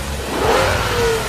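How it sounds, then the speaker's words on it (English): A Bentley Continental GT engine revs up, a loud, close mid-pitched roar that climbs and swells briefly before easing back off. "This, of course, is the Bentley Continental GT"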